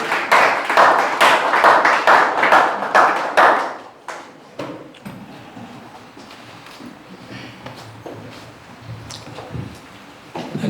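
Church congregation clapping in praise, a dense burst of rhythmic hand claps for about four seconds, then scattered claps and light taps fading into quieter room noise.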